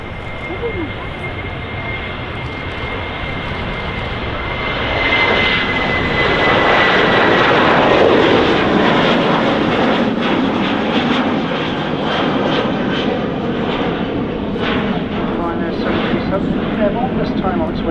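A Ryanair Boeing 737 jet takes off at Manchester Airport, its engine roar swelling from a steady rumble to a loud, broad, sustained thrust that lingers as the aircraft climbs away, with someone talking over it.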